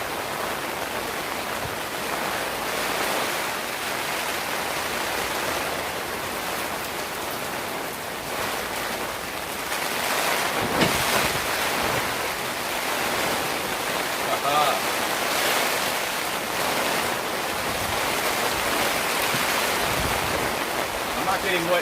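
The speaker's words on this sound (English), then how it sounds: "That's the storm you're listening to." Heavy rainstorm pouring down outside a tent, a dense, steady roar of rain that swells louder partway through and stays close and continuous, with no break.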